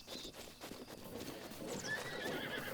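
Horses neigh and gallop in the open world of Zelda: Breath of the Wild, faint hoofbeats and a high whinny rising over a soft outdoor wash for a few seconds.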